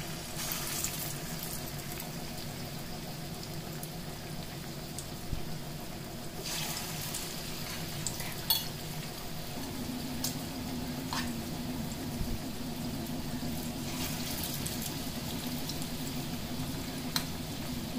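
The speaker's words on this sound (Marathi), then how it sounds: "तेल तापलेलं आहे। मी या भज्या आता सोडणार आहे।" Chana dal fritters (bhajiya) dropped into hot oil sizzle steadily at low volume, a soft continuous crackle with occasional brief clinks and bursts, heard alone without talk.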